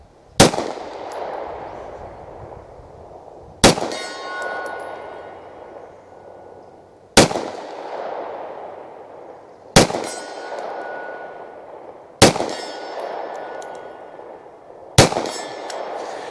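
Canik TTI Combat pistol rounds striking steel targets at 50 yards, six sharp metallic clangs spaced a few seconds apart, each with a ringing tail that fades before the next hit.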